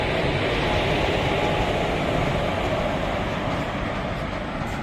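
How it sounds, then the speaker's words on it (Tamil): A train pulling out of a station bound for Coimbatore on the Trichy–Palani line, a steady loud rumble and rolling noise close by that carries on throughout with no talk. "நாம வந்த ட்ரெயின் பார்த்தீங்கன்னா இப்போது கோயம்புத்தூர் நோக்கி கிளம்பிடுச்சுங்க"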